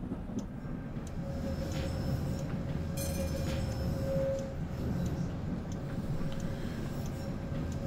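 Tram in a tram simulator game rolls along with a steady low rumble and rail noise, a faint whining tone and a few light clicks and knocks over it, continuous and alone without talk.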